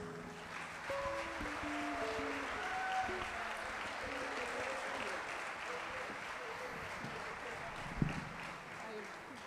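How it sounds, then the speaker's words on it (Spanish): Crowd at the Fiesta Nacional de la Manzana festival applauds a singer's children, sustained distant clapping with music tones and a voice over it, plus a sharp knock near the end. "También el aplauso para ellos."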